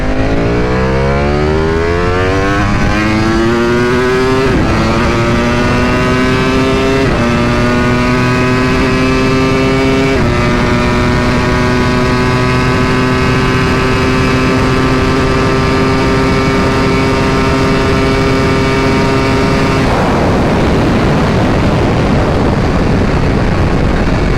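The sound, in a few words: 2021 Ducati V4R motorcycle accelerating from second gear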